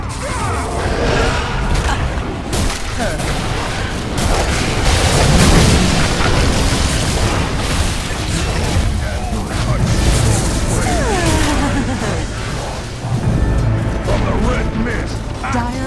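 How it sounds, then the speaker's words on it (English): A middle tower collapses in the video game Dota 2 amid loud, continuous booms, crashes and explosive impacts from the battle, with voices heard over the dense action. "Dire's middle tower is under attack."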